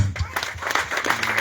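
A church congregation applauds after a prayer at a Bible study, dense clapping filling the short moment with voices mixed underneath.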